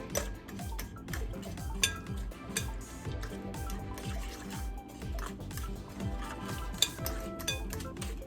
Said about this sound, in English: I decided to use my whisk at this point with adding in the sugar